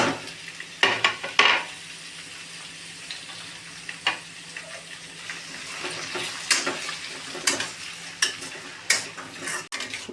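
Mixed vegetables cook in a pan over onions for pulao, giving a soft ongoing sizzle broken by intermittent stirring clatters and utensil knocks against the pot.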